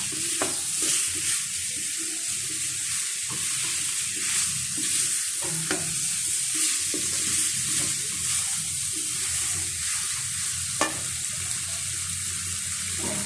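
A tilapia fish head with spices sizzles steadily in a hot pan, with occasional scraping stirs and clinks, close and continuous with no talking.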